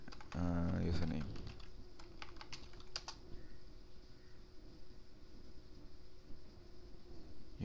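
Keystrokes on a computer keyboard entering an IRC ping command: a quick burst of clicks, then a few isolated taps over a faint steady hum.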